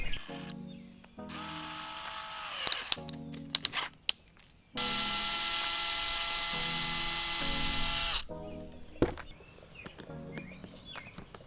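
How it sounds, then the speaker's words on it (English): An electric drill with a 7/64 bit whirs through screw holes in several short bursts and one long sustained run, with brief pauses and small clicks between, close and fairly loud. "drill through the screw hole there and the screw hole there using a 7/64 drill bit"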